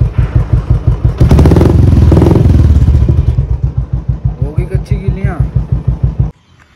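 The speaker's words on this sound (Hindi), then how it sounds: "रेव सुननी है रेव रेव सुनो" A Royal Enfield Bullet motorcycle idles with a loud, close, rhythmic thump. It swells into a brief throttle rev before dropping back to its steady beat, then cuts off abruptly at the end.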